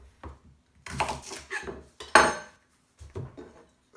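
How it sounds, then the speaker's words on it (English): A knife chopping the ends off leeks on a cutting board, several close, sharp cutting thuds and scrapes in an irregular rhythm with brief pauses. "we chop the ends off the 3 pieces"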